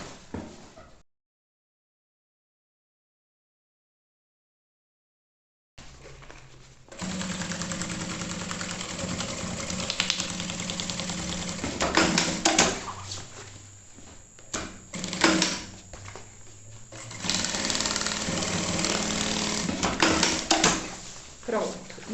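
A sewing machine stitches a seam on a fabric maternity bag, running steadily with brief stops and speed changes after a short silent pause near the start.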